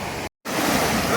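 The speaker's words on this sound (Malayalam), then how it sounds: "ബ്രോണോ നല്ല ഒഴുക്കുണ്ട്." Strong river current rushing at Vagamon, a loud, steady broadband roar of flowing water, broken once by a short moment of total silence before resuming at full force.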